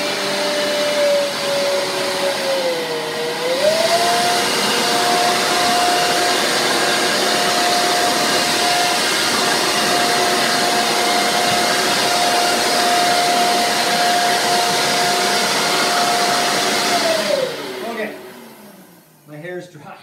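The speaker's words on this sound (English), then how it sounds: "So let me quickly get my hair dry." Handheld hair dryer blowing steadily for about twenty seconds, a loud close whooshing hum with a brief pitch dip early on before it winds down at the end.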